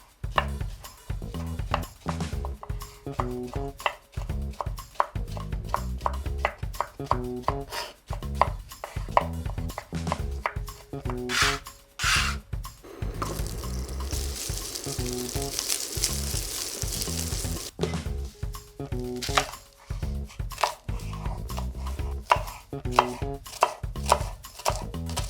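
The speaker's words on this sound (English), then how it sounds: "Cut the sausages into thin slices." Sausages are sliced thinly with a knife on a cutting board, a close, steady series of crisp chopping taps with a brief pause of rustling in the middle.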